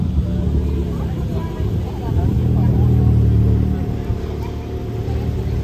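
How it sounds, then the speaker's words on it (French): A Lamborghini arrives on a Monaco street, its engine a loud, close, sustained low roar that swells in the middle and holds with slight revving, while people talk faintly in the background. "Il y a ce Lamborghini qui arrive"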